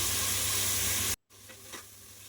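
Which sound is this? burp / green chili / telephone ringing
green chili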